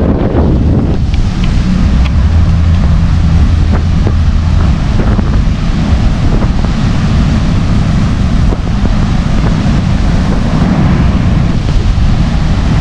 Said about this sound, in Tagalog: pero mataas pa rin ang hangin